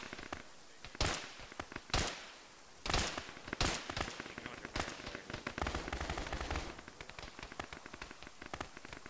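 Machine gun fire in the ArmA military game with a ShackTac group, sharp loud bursts early on giving way to dense rapid crackling volleys, sounding like distant sustained firefight.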